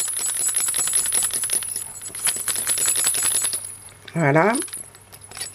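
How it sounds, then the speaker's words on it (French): Small jingle bells with tiny balls inside, used to decorate a Santa's sleigh, are shaken in a quick, dense patter of light metallic tinkles for about three seconds. A single spoken word follows near the end. "c'est des petits grelots, ils ont une toute petite bille dedans, ils font un tout petit peu du bruit"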